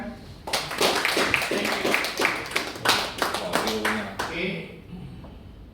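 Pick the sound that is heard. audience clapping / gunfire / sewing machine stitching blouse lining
audience clapping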